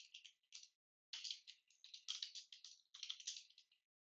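Password being typed on a computer keyboard during a Windows admin tools installation: bursts of quick, close, soft key clicks in uneven runs with short pauses, no voice.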